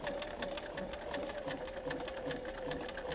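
A sewing machine runs steadily while machine quilting parallel lines with a parallel line foot, giving a continuous, close, even mechanical whir with rapid stitch ticks throughout, alone without talk.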